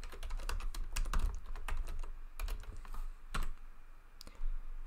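Typing on a computer keyboard in quick, uneven bursts of close, crisp key clicks with short pauses between, no speech.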